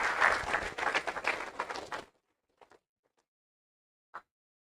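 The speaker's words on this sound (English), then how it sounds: "Give a big applause." Brief audience applause at an afternoon session of a road-programme anniversary celebration held at a university, a burst of clapping that stops abruptly after about two seconds, followed by near silence with a few faint isolated knocks.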